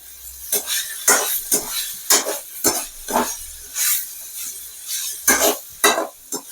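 Salted cauliflower masala fry is stirred in a pan, with repeated distinct scraping and clinking strokes of a spatula over a soft, quiet sizzle, close and irregular in rhythm.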